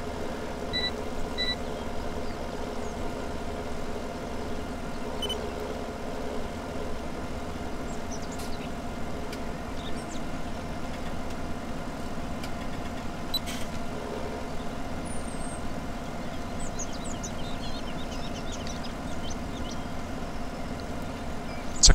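Tractor engine in the Farming Simulator 17 game, a steady low drone running throughout with occasional faint beeps, no talking.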